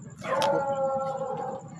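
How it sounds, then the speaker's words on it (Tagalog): Dogs in an abandoned village let out a single drawn-out, tonal howl or whine lasting about a second, fairly close, over a low rumbling background. "May aso, marami aso guys."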